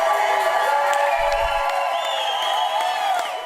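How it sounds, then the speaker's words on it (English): Supporters welcoming flotilla activists home at an airport in Sydney cheer and whoop in a sustained, dense crowd roar, with shouts rising above it. "applause from supporters"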